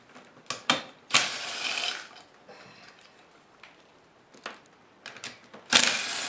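Ratchet clicking on the valve cover bolts of a 1988 Jeep XJ, heard as several separate bursts of close mechanical ratcheting with quiet pauses between them.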